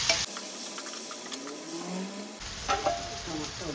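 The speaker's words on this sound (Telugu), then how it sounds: "అవి యాడ్ చేసుకొని మళ్ళీ ఒకసారి కలుపుకోవాలి" Chopped tomatoes are stirred into a simmering mutton paya curry, giving a continuous sizzle and wet scraping that drops out briefly mid-way before sharper stirring clatter returns, fairly close with no talk.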